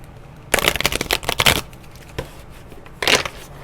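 Hocus Pocus oracle cards being shuffled by hand, a close riffling flutter in a burst of several quick slaps, a pause with a single soft tap, then another short shuffle burst.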